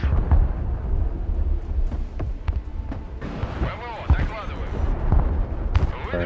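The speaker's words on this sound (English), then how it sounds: "We'll go ahead and do a creeping barrage, like so." Artillery creeping barrage firing in the war game Broken Arrow, with repeated deep booms and thuds rolling across a dense low rumble, punctuated by sharper blasts, while a voice talks over the bombardment.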